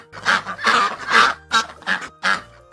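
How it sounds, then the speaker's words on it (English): A cartoon duck from a children's farm-animal lesson quacks six times in a steady, evenly spaced series of loud, close honking calls, with no talking. "This is a duck. Can you say a duck? A duck makes a"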